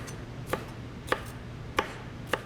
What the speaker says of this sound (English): I want these in about 1-inch chunks, and I'm just putting a little diamond cut on it